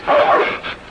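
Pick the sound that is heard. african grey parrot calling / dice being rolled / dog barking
dog barking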